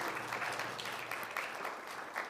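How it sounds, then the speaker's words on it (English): Audience applause fills a church during a Sunday service, a steady wash of clapping from a congregation that holds at an even level throughout, with no talk over it. "give him a round of applause"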